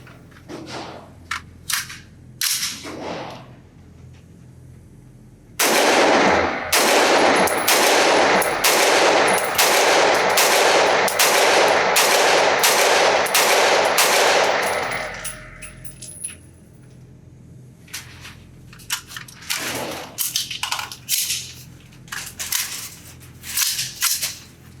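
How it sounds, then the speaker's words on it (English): A Q Honey Badger .300 Blackout AR-15 pistol firing subsonic rounds outdoors at a range, a long steady string of sharp close reports after a few scattered shots, then more sporadic handling clicks and clatter. "So let's see if I have any issues and how this gun shoots."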